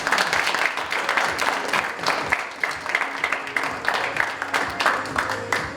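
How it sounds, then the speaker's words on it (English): Audience applause at a school district theater production of Clockwork: a dense, continuous wash of many hands clapping, fairly close and steady for several seconds. "we want to give you a round of applause"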